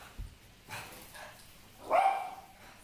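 A dog barks indoors in an apartment, a couple of short muffled barks spread over a few seconds, moderately close with no talking.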